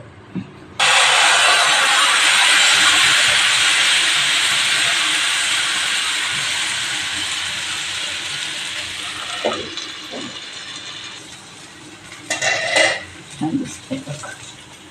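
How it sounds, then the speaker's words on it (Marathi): Amti dhirde batter hits a hot tawa with a sudden loud, hissing sizzle that slowly fades over several seconds, followed by scraping and clinks of a spatula near the end. "तवा तापट ठेवलाय आणि आपण छानपैकी आमटीचं धिरडं घालूया"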